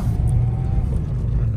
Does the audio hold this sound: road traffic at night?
yes